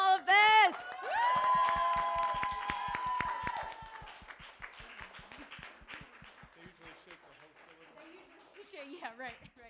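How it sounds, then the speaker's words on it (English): Audience at a community telethon clapping and cheering for a performer, loud at first and then thinning to scattered claps as a presenter speaks over it. "Round of applause for Sierra as well for doing all of this."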